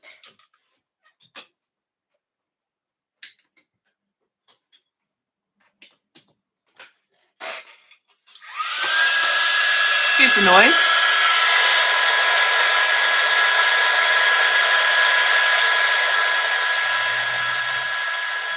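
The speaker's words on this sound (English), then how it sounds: "Plug in my heat gun." Heat gun melting embossing powder for card making switches on after some small tapping and handling noises, then gives a loud, steady blowing whine that runs to the end.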